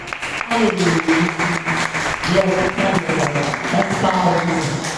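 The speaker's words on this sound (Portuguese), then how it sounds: "As palmas são lindas" Applause at a church service carries on throughout, with clapping under singing or loud voices from the congregation, close and fairly loud.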